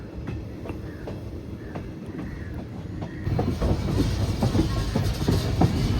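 A train hauled by an electric locomotive rolls along the rails with a rhythmic clickety-clack, a steady rumble that grows noticeably louder and closer halfway through, with no voices.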